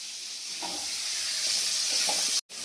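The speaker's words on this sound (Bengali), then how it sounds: "পেঁয়াজ আমার মোটামুটি ভাজা হয়ে গেছে" Onions frying in a pan give off a steady, bright, hissing sizzle at close range, with a few faint clicks, until it cuts out abruptly near the end.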